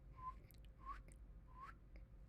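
Three faint, rising whistles, evenly spaced, sound in a quiet, hissy space during a night ghost hunt at Nevada State Prison, with a few soft clicks between them.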